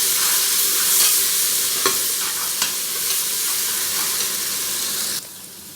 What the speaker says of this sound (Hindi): अदरक लहसुन का पेस्ट फ्राई हो गया